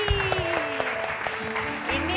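A small family group claps for a child named Kiki at a relaxed home gathering, the light clapping running briefly beneath close, continuous talk.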